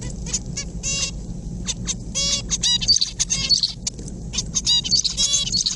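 A recorded songbird sings a run of bright, rapid chirps and trills in short repeated phrases over a steady low hum of room noise.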